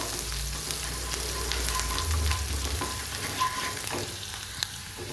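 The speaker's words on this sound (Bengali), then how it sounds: "পেঁয়াজটা অল্প হালকা করে একটু ভেজে নেব" Chopped onion sizzling in hot oil in a wok, a steady close crackle with stirring scrapes and a low rumble underneath, no voices.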